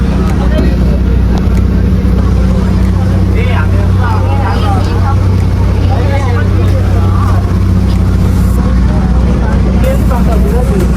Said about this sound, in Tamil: போட்டு ஒரு வழியாக போயிட்டே இருக்கு.